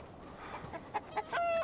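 Chickens clucking in a scene from the Fallout TV series, a few short, close calls rising over low background noise, ending in a longer run of sustained tonal calls.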